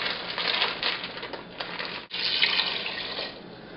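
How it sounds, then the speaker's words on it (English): Water runs steadily into a pot of potatoes, a close, continuous splashing pour with a brief break partway before it resumes, no voices over it. "I'm going to put a little water in it as well"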